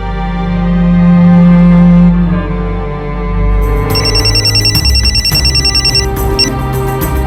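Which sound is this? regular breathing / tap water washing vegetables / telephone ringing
telephone ringing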